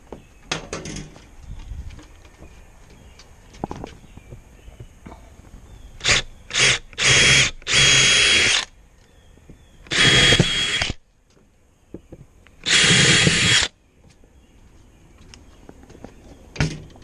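Several bursts of a power drill whirring into deck wood, short at first then longer sustained runs, loud and close, separated by quiet pauses and small knocks.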